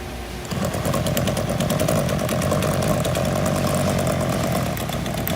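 Climax PB6 pneumatic power beveler running on a pipe, a steady, loud mechanical roar with a rapid, grinding chatter that starts after a brief quiet moment and holds steady throughout.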